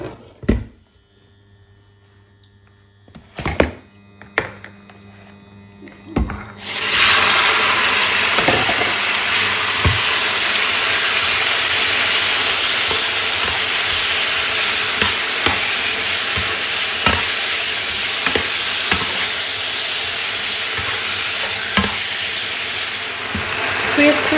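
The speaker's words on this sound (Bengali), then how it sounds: "ফ্রাই প্যানে তেল দিয়ে দিয়েছি" Oil in a frying pan starts to sizzle and fry after a few quiet seconds with soft knocks, then a loud steady hiss continues to the end with occasional clicks of stirring.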